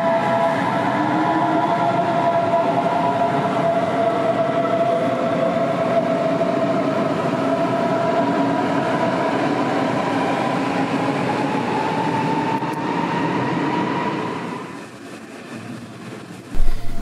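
A Cologne S-Bahn commuter train rumbles past with a sustained roar and whining electric motor tones that slowly fall, fading out near the end.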